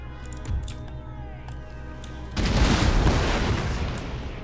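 Line infantry in Empire: Total War let off a musket volley, a sudden roaring burst of massed shots that swells and lingers as a dense crackle after a quieter stretch with a single thump.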